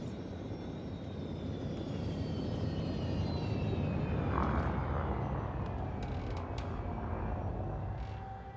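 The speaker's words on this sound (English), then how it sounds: "Landing gear deployed" Spaceship landing gear lowering in Elite Dangerous: a long mechanical creaking hum with a descending whine over steady engine rumble, swelling to a peak midway, with faint clicks and a gradual fade at the end.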